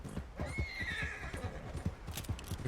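A horse in the video game Red Dead Redemption 2 whinnies in a long rising-and-falling neigh, with hooves clip-clopping steadily underneath, close and clear.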